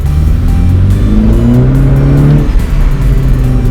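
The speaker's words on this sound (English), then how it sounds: "you can hear the exhaust, you can hear the crackle" A Mini Cooper S Convertible engine revs loud and close, pitch shifting as it downshifts, with a rough, crackly exhaust burble throughout.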